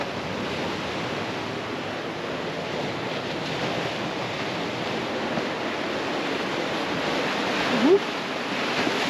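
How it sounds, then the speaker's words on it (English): Ocean surf rolls in with the incoming tide along a seaside cliff walk in Newport, Rhode Island, a steady, broad roar of waves with wind noise on the microphone, heard close and constant. "Sounds like the tide's starting to come in."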